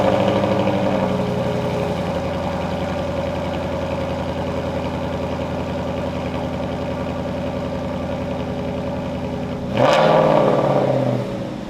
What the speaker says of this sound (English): it's actually just a Ford Performance exhaust